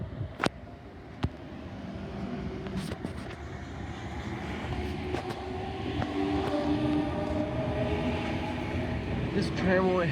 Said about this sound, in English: And we have H44 arriving at platform number 2.